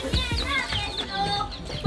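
A chicken clucks close by in a Romanian yard, giving a short run of throaty, rising clucks that fill the moment with no talk over them.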